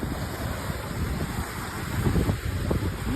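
Wind gusts steadily across Ennerdale lake in the Lake District, a continuous loud rush of microphone buffeting blended with lapping waves on a cloudy morning.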